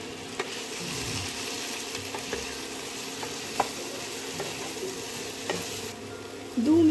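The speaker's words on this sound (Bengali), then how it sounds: "এবারে সব কিছুকে খুব ভালোভাবে মিশিয়ে নেব।" Ground cumin, turmeric and chilli powder being stirred into sizzling squash in a pan, a steady scraping stir over a soft continuous fry with a few louder knocks of the spoon, no talking.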